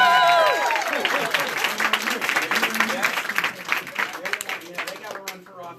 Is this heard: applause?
yes